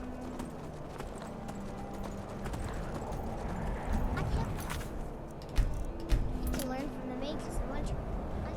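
Hooves clip-clop steadily as a horse is ridden in Skyrim Special Edition, a modded fantasy video game played in survival mode, with a snort or whinny and a few louder clatters mixed into the low, busy game ambience.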